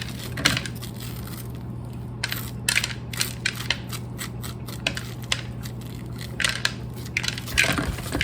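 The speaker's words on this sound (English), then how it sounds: "so now we're just going to take and scrape these seeds out" A spoon scrapes seeds out of a halved vegetable in a kitchen, giving a run of short, rasping scrapes in an uneven rhythm, close and fairly loud over a low steady hum.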